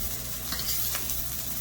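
A spatula scrapes and stirs fried rice with bacon in a thinly oiled metal pan, giving a steady close sizzle broken by a few soft scraping strokes.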